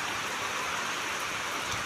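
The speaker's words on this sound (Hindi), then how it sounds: "वर्षा स्टार्ट हो गला" Heavy rain falling in a village, a steady dense hiss of drops hitting surfaces, loud and unbroken throughout with no voices.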